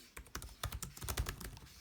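Rapid, close typing on the keyboard of an HP Envy 13 laptop (late 2016, Kaby Lake), a quick run of crisp key clicks with no talking.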